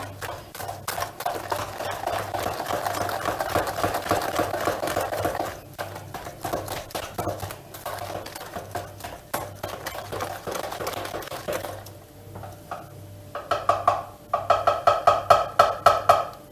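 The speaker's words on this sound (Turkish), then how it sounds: "Biraz daha çırpacağım." Homemade creamy yogurt being whisked for raisin cookie dough, a busy clattering of whisk against bowl that runs steadily, eases off midway, then returns as quick, sharp, rhythmic beats near the end.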